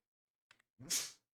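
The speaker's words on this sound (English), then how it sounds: "guys hear him sneeze?" A single short sneeze, close and fairly soft, preceded by a brief intake of breath in an otherwise quiet room.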